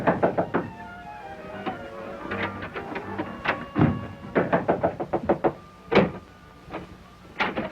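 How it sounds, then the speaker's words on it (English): Knocking on a door in a 1938 radio drama: repeated sharp raps in quick clusters with short pauses between them, loud and close, with no talk over them. "There's someone at the door."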